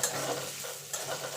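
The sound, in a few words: frying chopped onion in a pan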